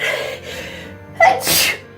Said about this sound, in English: I could have sneezed in a sec. It's coming.